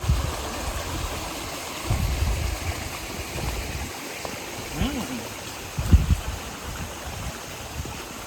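A small waterfall stream in dense Sahyadri forest rushes and gurgles steadily, with occasional low thumps and faint voices in the background.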